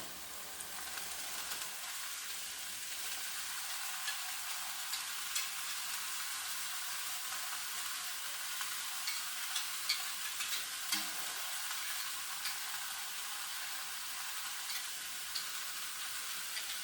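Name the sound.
beef and soybean sprouts frying in a pan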